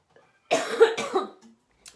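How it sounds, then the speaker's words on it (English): A short burst of coughing, two or three rough hacks close together, fairly loud and near, followed by quiet with a faint breath at the end. "Getting excited and start coughing."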